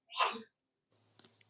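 One short, sharp sneeze up close, followed by a brief silence and faint rustling.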